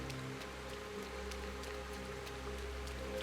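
Steady in-game rain in Sengoku Dynasty, a soft continuous patter with scattered drop ticks over a low ambient hum, even and fairly quiet throughout with no one talking.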